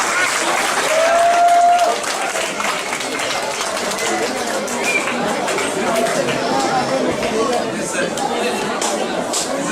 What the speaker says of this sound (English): So with big applause